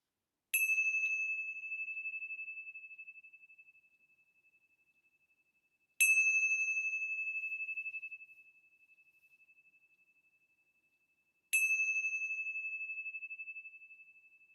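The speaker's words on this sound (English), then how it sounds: "let's begin our time together with the ringing of the bells." Three separate bell strikes ring out, each a bright, clear tone with a long, slowly fading resonance, spaced evenly several seconds apart with silence between them.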